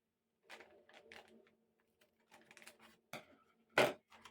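A container of Kornevin rooting powder is handled and opened by hand: a series of soft plastic clicks and rustles, ending in a sharp snap, close and quiet with no talk.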